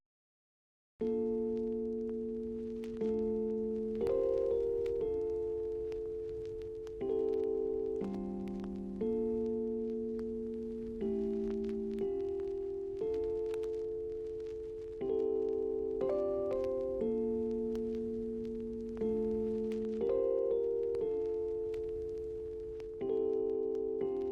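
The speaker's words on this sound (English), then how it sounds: "You combine this baby with an electric piano and you get something super dreamy" Soft, sustained electric piano chords shift slowly from one to the next, each swelling and gently decaying in a calm, dreamy progression with no voices.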